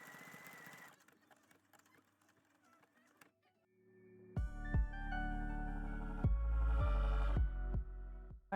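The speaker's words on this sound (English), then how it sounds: "Here's a little bit of buttonhole ASMR." A sewing machine stitches a buttonhole on a vintage-pattern skirt: a quiet rattling start, then a loud, close, steady mechanical whirr with repeated thumping pulses, heard without talk.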